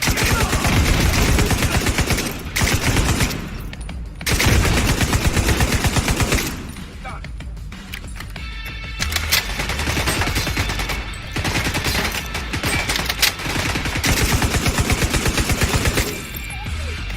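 Sustained automatic gunfire in The Division 2, loud rapid bursts repeating across several long stretches with short pauses between, heavy and close.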